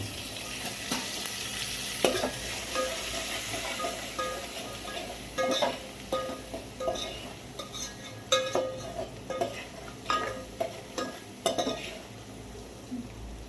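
Oil, chilli powder, salt and dried lentil dumplings sizzle and crackle in a hot pan, with metal utensil clinks and stirring scrapes scattered throughout.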